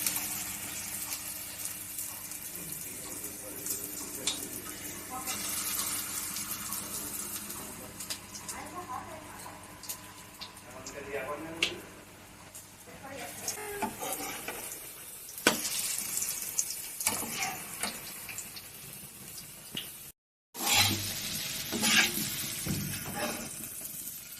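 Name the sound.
egg and soybean fritters frying in hot oil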